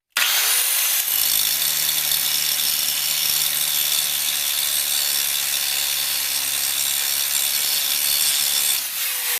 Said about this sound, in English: we're gonna grind those rivets off and put a new ball joint in